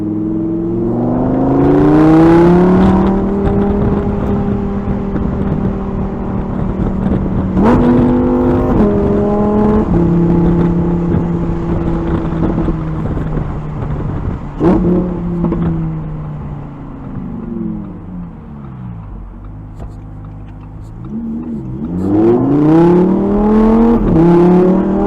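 Lamborghini Huracan EVO RWD Spyder (2022) with the top down, its engine revving and accelerating hard in Corsa mode through rising and shifting gear tones, loud and close throughout with a brief lull before another strong surge.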